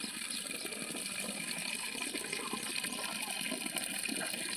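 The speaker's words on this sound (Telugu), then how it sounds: "మస్తు ఉంది చికెన్ కడుగుతుంటే." Water pours and splashes as chicken is washed outdoors at a farm, a steady close gushing and sloshing flow that fills the whole moment without talk.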